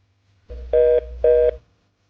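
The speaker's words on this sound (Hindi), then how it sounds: "शिवानी को कॉल करती हूँ।" A phone is dialed to place a call: two crisp touch-tone key beeps in quick succession over a low electrical hum, with nothing else around them.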